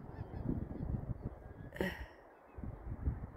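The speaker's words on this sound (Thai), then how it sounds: "ฝูงหงฝูงห่านจ้าฝูงทั้งหงทั้งห่านเต็มเลย" A flock of geese and swans honks along a Swedish river, scattered calls at moderate distance over wind and rumbling background, with one brief louder honk midway.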